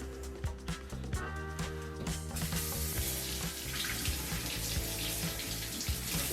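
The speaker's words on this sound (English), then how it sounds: "let me just give a little rinse to my hands" Kitchen tap running as hands are rinsed under it, a steady close splashing rush of water with a few clinks and knocks at the start.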